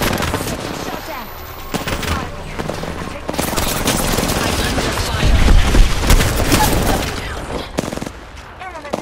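Rapid automatic gunfire bursts in the Apex Legends battle royale video game, loud and dense with layered shots and booms, while a voice calls out over the action.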